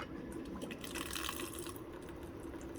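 Alkaline water from a Tyent tap runs steadily into a pot of rice for washing, a soft continuous splashing and trickling close by at low volume.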